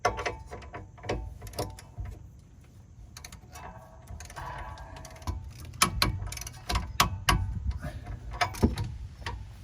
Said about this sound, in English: so we can torque everything down together